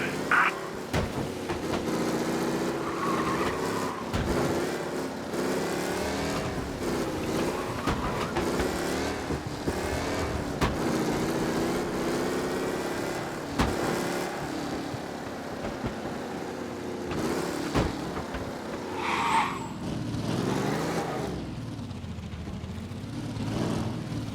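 A car in the video game Mafia Definitive Edition drives along, its engine revving and shifting through rising and falling tones with occasional bumps and clunks, fairly close and continuous.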